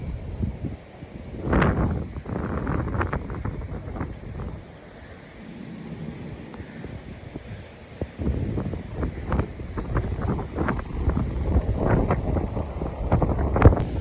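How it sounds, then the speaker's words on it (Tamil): Strong wind gusts buffet the microphone on a beach at Vallai where a kite-flying competition is held, roaring in rough waves with a brief lull midway and no talk. "இப்போ காற்று வந்து இந்த பக்கம் இருந்து இந்த பக்கம் அடிக்கிறதால"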